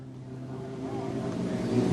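Modlite race car circling a speedway track at Gympie, a steady engine drone that slowly builds in loudness as it nears.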